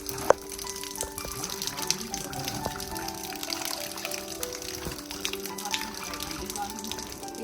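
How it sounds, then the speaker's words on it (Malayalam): Cashew nuts being washed in water, with steady splashing and pouring sounds and scattered small clinks, while a person speaks over the top. "വെള്ളത്തിലിട്ട് കഴുകുകയാണ്."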